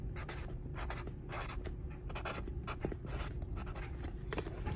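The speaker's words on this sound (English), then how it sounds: "I'm going to write her order on the top." A pen scratches across the top of a shipping package, steady strokes with short pauses between letters, close and crisp with no voices.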